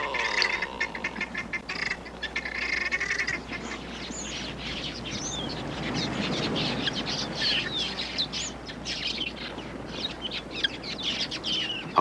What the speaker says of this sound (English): A flock of quilias makes a hit-and-run raid on the waterhole.